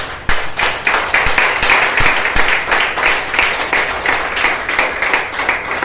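A church congregation claps loudly for the Lord during a sermon, many hands in a dense, fast, steady patter with rhythmic accents, sustained for several seconds without talk.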